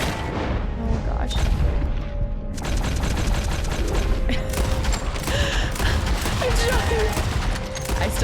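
Bursts of gunfire crackle in Red Dead Redemption 2, a rapid volley of sharp shots rattling in dense clusters with echoing booms, loud and sustained over background game noise.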